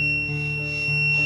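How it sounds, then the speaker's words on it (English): An electronic buzzer in a simple battery-powered circuit sounds a steady, piercing electronic tone, unbroken and fairly loud, with no voices. "the buzzer is beeping"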